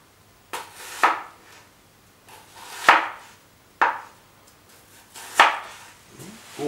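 Yakut steel knife slicing food on a board in a kitchen, with several sharp, distinct cuts spaced about a second apart, each a crisp knock followed by a brief scraping tail, fairly close and clear, no voices.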